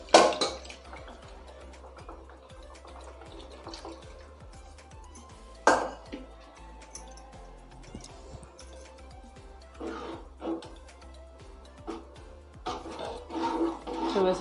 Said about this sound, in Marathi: मी हा कुकर व्यवस्थित धुवून घेते